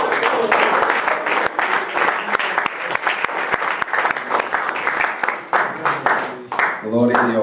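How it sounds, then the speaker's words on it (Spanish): Applause from a church congregation, dense rapid clapping that continues steadily for several seconds before tapering off, with a voice coming in near the end. "Un aplauso a Dios, hermano."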